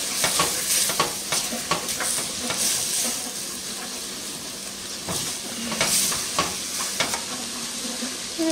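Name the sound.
stirring thyme into chicken and dumplings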